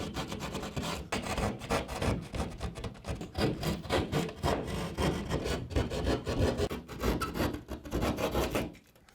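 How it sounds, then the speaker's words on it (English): A drywall knife saws back and forth through drywall in a steady rasping rhythm, close and fairly loud, with rubbing strokes for about nine seconds before stopping. "We're going to just slide it right through the hole here. And we're just going to go back and forth like we're on a seesaw"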